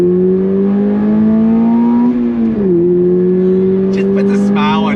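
A 2024 Toyota GR86 Performance Pack accelerates in second gear from about 30 mph, its engine note rising steadily and loudly from inside the cabin, dipping briefly at a gear change before climbing again.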